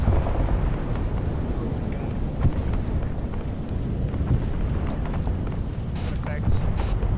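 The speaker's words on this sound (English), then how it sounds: "Napalm's inbound, north." Napalm strike in the military video game Arma 3, a sustained loud, heavy roaring rumble of burning explosion that fills the whole stretch, with faint crackles and brief voices over it.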